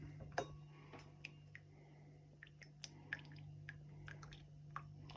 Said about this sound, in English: Last few drip, drip, drips.